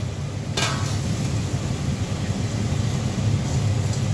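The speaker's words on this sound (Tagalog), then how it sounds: "haluin lang muna natin" Spoon stirring a pot of simmering chicken soup with carrots and ground pepper, a soft steady bubbling and scraping, close and moderately loud with one brief clink near the start, no talk.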